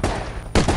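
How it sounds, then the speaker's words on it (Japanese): Gunfire from an online battle-royale shooter video game, Knives Out, sounds as two loud, close bursts of rapid shots with a short pause between them. "なんか銃声、なんか鳴ってんだけど。"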